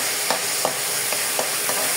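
Spice masala for a fresh local kachki fish charchari sizzles steadily in a pan, with a soft scrape from stirring roughly every third of a second.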